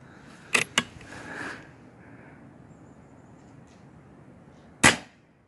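An RTI Priest .25 caliber PCP airgun fires, with two sharp cracks close together early on and another sharp report near the end, loud and close against a quiet background.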